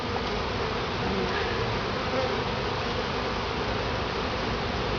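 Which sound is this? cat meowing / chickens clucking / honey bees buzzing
honey bees buzzing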